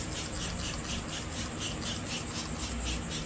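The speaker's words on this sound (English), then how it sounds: "We're going to the 3rd scrub now." A wet brush scrubbing a car tire with cleaner, a continuous close bristly rasp in quick back-and-forth strokes, steady and even with no talk.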